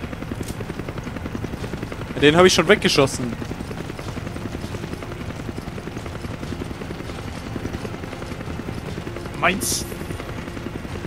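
A helicopter in the Resident Evil 5 video game drones steadily with a low rotor thrum throughout, under two German-speaking players talking, with brief louder bursts of game noise.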